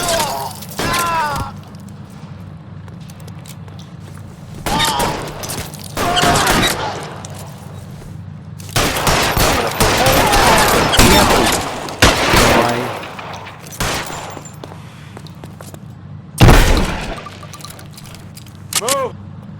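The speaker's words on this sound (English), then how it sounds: "Keep shooting!" Shootout in L.A. Noire during a drug ring case: repeated loud bursts of gunfire and sharp cracks, some clustered and some isolated, mixed with shouting and talk over a steady low background.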